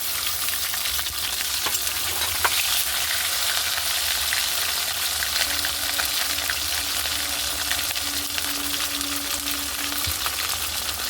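Ginger paste with chopped tomato fries in a pan for banana kofta curry, a steady loud sizzle with light scraping of stirring throughout and no voices.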